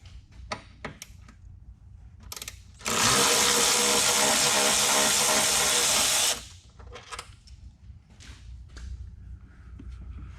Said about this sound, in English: We're also going to remove this painted 13mm bolt in the side of the apron.